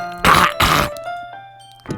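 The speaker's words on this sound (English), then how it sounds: "Just gotta keep clearing my throat." Two harsh bursts of throat clearing close to the microphone, followed by a quiet tail with a faint electronic hum and a short final rasp.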